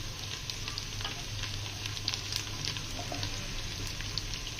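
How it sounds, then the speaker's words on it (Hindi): Steady, close sizzling of onions frying in a hot pan, with occasional stirring scrapes and no talking. "अब प्याज जो है उसको हमने हल्का सा ब्राउन करना है।"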